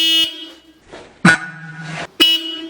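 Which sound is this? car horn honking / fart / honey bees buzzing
car horn honking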